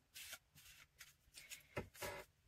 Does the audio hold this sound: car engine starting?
no